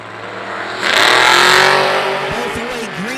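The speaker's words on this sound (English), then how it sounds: "Left side, Dale Davis, 671 out of Toledo, Ohio on the left side in the 69 Camaro" Drag racing at an IHRA event with a 1957 Chevy and a 1969 Camaro: a loud engine roar swells near the start, holds strong, then eases as the cars run, with a steady track din under an announcer's voice.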